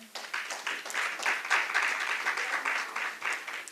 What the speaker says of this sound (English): A round of applause for the guy.